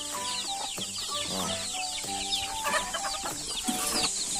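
A flock of hungry backyard chickens keeps up busy clucking and squawking nearby, calls overlapping in irregular bursts over a bright, constant insect-like hum, with no voices.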